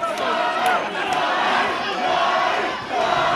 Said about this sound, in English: We can hear the crowd going wild here for the red corner